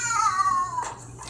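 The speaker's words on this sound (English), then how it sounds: "That was just my cat." A house cat gives a single drawn-out meow that bends downward in pitch, followed by a faint rustle.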